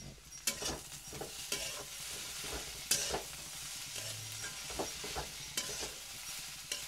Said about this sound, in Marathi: पेस्ट टाकल्यानंतर ते तळून घ्यायचे मध्यम तेलामध्ये